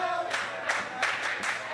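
Crowd at a wrestling event at the Chop Shop clapping in a rough rhythm of about four bursts, moderately close and lively, with no talk over it.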